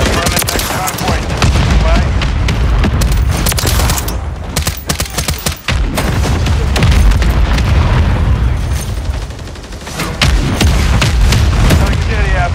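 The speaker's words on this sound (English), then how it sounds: "Friendly mortar strike is on the way." Mortar strike explosions in Call of Duty Modern Warfare III, a loud, sustained barrage of booming blasts and crackling gunfire that drops out briefly midway, then resumes, with game voices mixed in.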